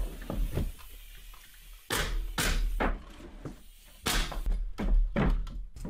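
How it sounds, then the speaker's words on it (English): A nail gun fastens a wall top plate to attic trusses: several sharp, loud thunking shots close by, some in quick pairs, with clattering handling noise between them and no talking. "I'm using a nail gun to quickly add these into place, and then the top plate in the same manner."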